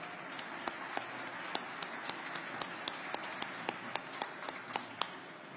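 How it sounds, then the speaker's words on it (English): Audience applause at a Veterans Day breakfast, a steady sustained patter of many hands with a few sharper nearby claps standing out at a moderate level. "Let's give another round of applause for Admiral Pullen"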